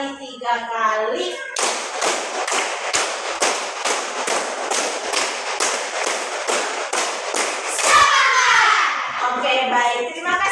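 Schoolchildren in a class clapping game clap in unison, a long run of sharp, evenly timed group claps in sets, loud and close, framed by a voice leading the count at start and end.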